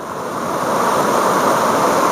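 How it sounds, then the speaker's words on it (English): A river rushing into a flooded lake, a loud, broad, steady roar of flowing water with some wind buffeting, continuous and close with no talk. "That's the lake, and that's the river flowing into the lake."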